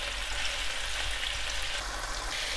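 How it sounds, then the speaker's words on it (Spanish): Chicken sears in olive oil over high heat, giving a steady, even sizzle that hisses without a break from start to finish, with no voices. "Vamos a sellar a ese fuego fuerte el pollo."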